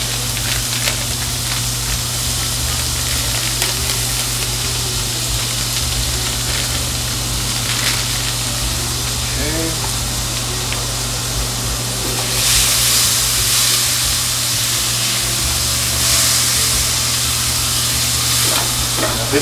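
Bell pepper filling frying in a pan at home, giving a steady sizzle and hiss with light stirring sounds and a constant low hum, growing a bit louder and brighter near the end.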